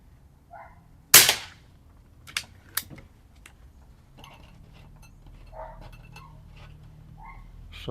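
An Umarex Zelos .25 air rifle fitted with a moderator fires once, a sharp close crack followed by a brief tail, then a few lighter clicks and handling knocks in a quiet setting.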